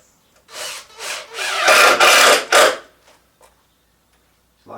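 Screws driven into a wooden cabinet with a power driver, several short buzzing bursts of steady grinding, a couple running back to back, loud and close, then quiet with faint clicks.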